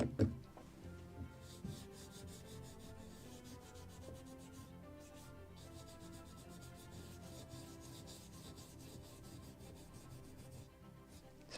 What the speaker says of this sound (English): But I also need to sand this.